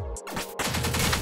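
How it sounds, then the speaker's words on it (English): Dense explosions and rapid gunfire from the video game Pineapple Smash Crew come as a loud, continuous burst of crackling blasts with fast repeated shots, close and overlapping. "Explosions everywhere."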